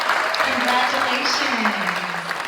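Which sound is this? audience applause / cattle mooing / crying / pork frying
audience applause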